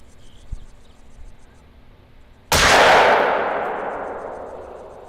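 A single loud hunting rifle shot fired at geese in theHunter rings out after quiet ambience, its sharp crack followed by a long rolling echo that slowly fades.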